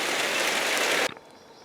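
Rain falling outdoors in a steady, dense hiss that cuts off abruptly after about a second, leaving a quiet background.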